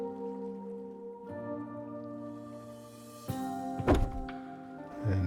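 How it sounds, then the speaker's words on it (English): In the Rust video game, a frag box is placed with a couple of soft, dull thunks over a steady low tonal hum, all fairly quiet. "Now I'm going to put down the frag box."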